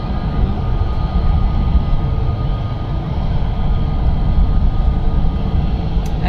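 An EasyJet airliner departing Manchester Airport for Corfu gives off a heavy, steady low engine rumble close by, continuous throughout with no voices over it.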